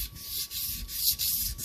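Wet sanding with 240 grit wet-and-dry sandpaper, a steady rasping rub that swells and fades in repeated strokes, close and continuous with no talking.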